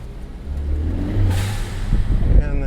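A Ford Focus ST engine running rough while warming up outdoors, a close, uneven low rumble that surges and revs slightly toward the end, with no one talking over it.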